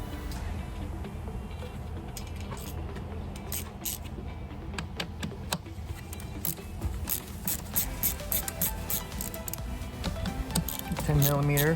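Ratchet with a 10mm socket loosening the battery terminals on a 2016 Chrysler Town & Country, quick bursts of close, sharp clicking under a low background rumble, growing denser toward the end.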